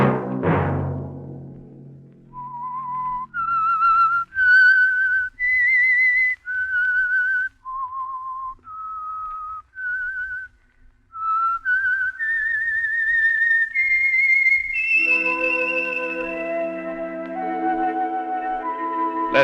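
A clear, melodic whistled tune, note after note, ending on a held note as orchestral music swells beneath it.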